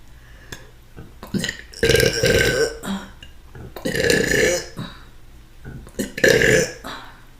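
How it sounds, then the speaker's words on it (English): A burp during a mukbang meal, loud and drawn-out, arriving in three strong bursts separated by short pauses, close to the microphone with no talking. "Delayed burp. Delayed."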